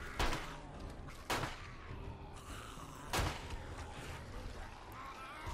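Pistol and machine gun shots in 7 Days to Die, a few sharp isolated bangs spaced over a noisy game background, moderately loud.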